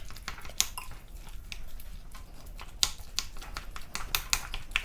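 Meatloaf ingredients get mixed with barbecue sauce, giving faint, irregular clicks and taps of a utensil against the bowl over a low, quiet background.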